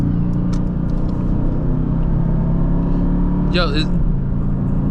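A deep BMW X6M engine rumbles close by as the car drives past, with a short spoken exclamation partway through.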